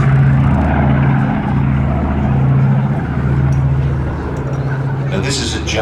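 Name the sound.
North American B-25 bomber propeller engines flying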